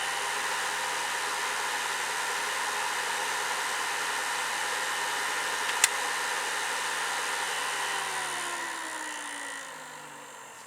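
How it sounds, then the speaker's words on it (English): Cooling fan of a Kenwood PS-430 power supply running at 13.8 volts, a loud steady whir with a broad airy hiss that holds evenly, then winds down and fades near the end. "I'll just let you listen to the fan, how loud it is"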